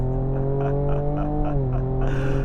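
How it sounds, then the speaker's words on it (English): A 2024 Ford Ranger Raptor on all-terrain tires launches hard, its engine droning loudly and steadily with a rising pitch and a hiss near the end, heard close. "Oh man, too much wheel spin."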